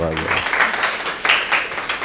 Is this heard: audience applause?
yes